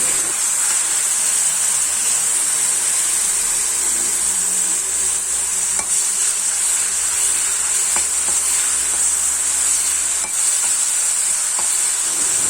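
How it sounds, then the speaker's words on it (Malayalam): Shallots and curry leaves fry in a pan for jackfruit erissery, giving a loud, continuous hissing sizzle that stays even throughout, with a few faint clicks of a utensil and no talking. "ഇനി ഉള്ളിയും കറിവേപ്പിലയും നന്നായിട്ടൊന്ന് മൂപ്പിച്ചെടുക്കാം"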